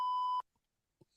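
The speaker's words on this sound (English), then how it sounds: "The beep didn't last long." A short censor beep on a sports podcast: a loud, steady pure tone lasting under half a second, then quiet apart from a faint thump.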